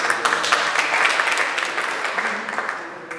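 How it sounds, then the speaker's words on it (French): Crowd applause at a press conference launching an arts project, brisk and full at first, then gradually thinning and fading over a few seconds with a faint voice underneath. "Applaudissez encore"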